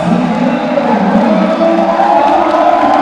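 A crowd roars and cheers continuously at a boxing match in a Navy gym, a loud, dense wall of voices with no pause.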